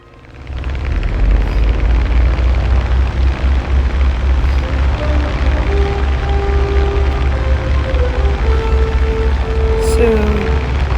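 SBD-4 dive bomber in the War Thunder game, its propeller engine droning loud and steady after a quick rise at the start, with a faint higher whine sliding in near the end.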